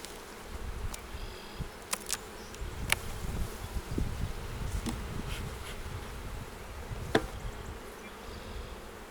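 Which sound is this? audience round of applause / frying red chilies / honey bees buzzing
honey bees buzzing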